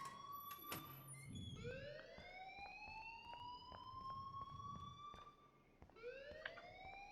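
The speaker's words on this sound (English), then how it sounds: "please turn off that alarm since that's your job" A fire alarm blares in the video game Life is Strange: a loud electronic siren that sweeps upward in repeated rising tones, with short gaps between wails and faint background clicks and murmurs.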